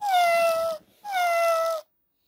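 A cat gives two drawn-out meows, clear and close, separated by a brief pause, with nothing else audible.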